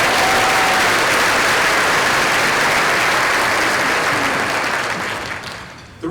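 Loud, dense audience applause fills a school district keynote event, sustained for about five seconds before tapering off.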